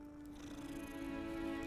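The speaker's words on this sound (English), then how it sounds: "I can pet the kitty." A cat purrs softly while being petted in the Hogwarts Legacy video game, a steady, quiet, close purr with a low, even hum and no talking.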